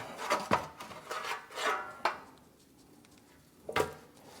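Hands work dry spice rub over slabs of ribs, edges included, before they go on an 18.5-inch Weber Smokey Mountain smoker. Three short bursts of close, dry rubbing and rasping are separated by quiet pauses.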